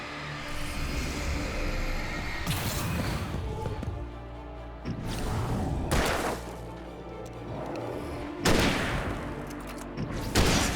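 Hunting rifle gunshots in the Alan Wake video game, three or four loud, sharp blasts spaced a few seconds apart over a continuous rumbling game background, with no voices.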